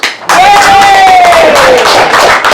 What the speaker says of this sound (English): I think a big round of applause for that